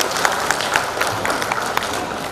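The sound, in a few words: applause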